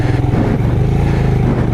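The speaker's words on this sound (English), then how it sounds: "Keep the revs up on this bike, definitely." A small Royal Enfield Himalayan-style adventure motorcycle engine revs hard off-road, a close, loud, continuous throbbing thump held at high revs without a break.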